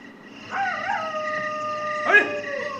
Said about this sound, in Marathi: हा एक कुत्रे कोण भुंकत राहिले एवढं.